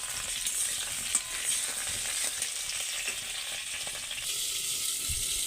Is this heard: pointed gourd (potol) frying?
yes